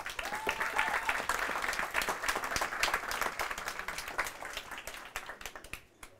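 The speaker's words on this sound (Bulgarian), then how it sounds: "аплодисменти за Мартин." An audience at a talk gives a round of applause, crisp individual claps building into a lively patter and then thinning out and fading toward the end.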